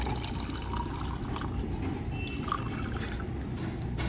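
Water poured steadily into a glass of milk to mix a liquid fertilizer for jasmine plants, a continuous close, full splashing pour lasting the whole moment.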